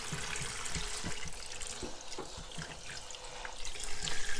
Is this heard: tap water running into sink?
yes